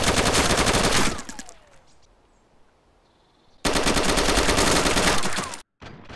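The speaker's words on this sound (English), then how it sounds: "the M4 has easy to control recoil as shown here, with and without fighting the recoil" An M4A1 rifle in DayZ Standalone fires two sustained full-auto bursts, loud and close, each a rapid unbroken rattle of 5.56 rounds, separated by a couple of seconds of near silence.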